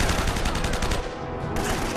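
Rapid automatic M4 rifle fire in the action game Uncharted, a fast close string of sharp shots with a brief dip near the middle before the firing resumes, loud and continuous.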